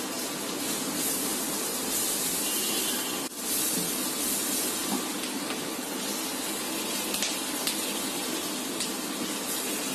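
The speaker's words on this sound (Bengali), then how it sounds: "বাটার আর রসুনটা ভেজে নিয়েছি। এখন দিয়েছি কিছু পেঁয়াজটা একটু বড় করে কেটে নিয়েছি, দিয়ে দিচ্ছি।" Large-cut onions hit a pan of hot butter and fried garlic for a creamy vegetable pasta, producing a continuous loud, even hiss of sizzling with no talk.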